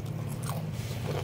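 A close bite into a thin, crunchy peyek cracker gives a short, loud, dense crunch with crackling texture over steady low background hum.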